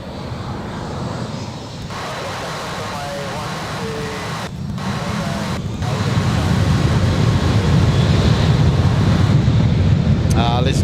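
A departing airliner's low rumble at Adelaide Airport swells and grows louder partway through, heard from a distance under heavy wind buffeting on the microphone.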